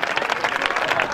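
An audience at a live stage program claps in dense, steady applause that stays loud and continuous through the whole brief moment.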